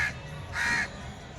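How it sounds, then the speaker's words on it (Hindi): A crow perched on a rooftop in Delhi gives two harsh caws, one short and one longer, close and clear against quiet background. "ये यही कौवा यहाँ पर काएँ काएँ बोल रहा है"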